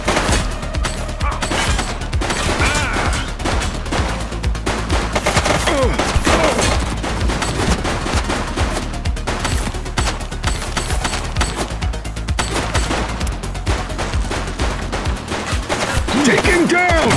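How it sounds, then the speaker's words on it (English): Dense, loud gunfire in a police shootout in the video game The Precinct, with rapid overlapping bursts and shots that continue without letup. "He's shooting!"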